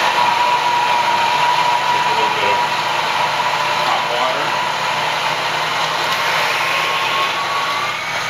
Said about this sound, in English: grilling it or grinding it in the Malconin.